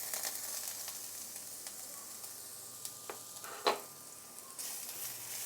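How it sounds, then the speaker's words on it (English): Ginger fries in heated oil, giving a soft, steady sizzle with a few sharp crackles and pops, quiet and close with no voices. "Once the oil is heated up, we can put in the ginger."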